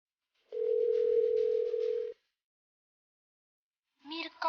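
Unanswered telephone call: one long steady ringback tone sounds alone for about a second and a half, then silence, followed by a recorded voice beginning to speak.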